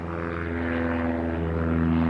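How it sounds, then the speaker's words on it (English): A propeller aircraft drones at an airport beside an air museum, with a steady, loud engine hum and a rising whir holding without a break for the whole span and no voices. "Yeah, I'm at the airport."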